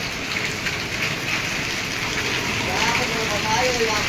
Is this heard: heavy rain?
yes